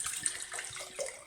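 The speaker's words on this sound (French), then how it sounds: "Vous allez le remplir une fois encore avec ma fameuse bouteille d'eau minérale." Mineral water pours from a bottle into a glass jar in a short splashing trickle lasting about a second.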